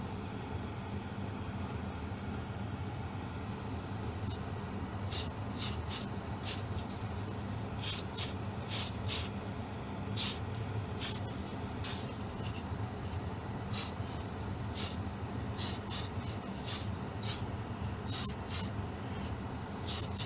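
Spray can priming small plastic parts of a Spitfire Mk I model aircraft kit, a steady low background hiss broken by repeated short bright spray bursts in irregular succession, moderately quiet and close.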